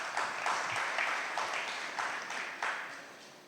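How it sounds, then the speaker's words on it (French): Steady applause from a crowd fills the space, a soft, continuous wash of clapping that gradually fades. "ça mérite des applaudissements"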